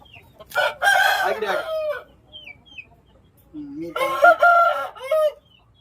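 A native-breed rooster crows loudly twice with a pause between, close by, with a few softer clucks in the quiet gaps.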